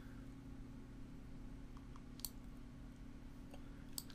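A computer mouse gives two faint, sharp clicks spaced well apart over a steady low background hum, with no one speaking.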